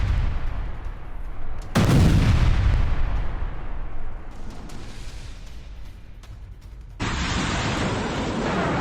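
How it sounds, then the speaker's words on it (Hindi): Missile strike explosions in news footage of an American attack on Houthi rebels, with loud booming blasts followed by a sustained roar and rumble. "ये मिसाइल गया है और सीधे अटैक किया है"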